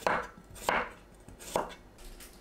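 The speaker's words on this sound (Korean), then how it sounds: "둥글고 얇게 썰어줍니다." A knife slicing a partly peeled cucumber into thin rounds on a board: three crisp, close cutting thuds spaced about a second apart, alone and clear.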